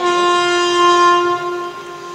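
A train horn blares loud and steady with a sustained chord of tones, fading slightly toward the end as the train rumbles past.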